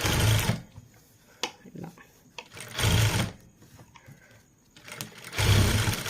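A sewing machine stitches plain cloth for basket handles in three loud bursts of rapid mechanical whirring, with quiet pauses and small handling clicks between the runs.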